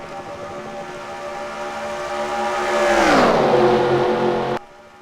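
Race cars in an Avis Cup Series Bud Shootout run under green flag, engines roaring loudly as a pack sweeps past with a falling pitch, then the sound cuts off abruptly near the end.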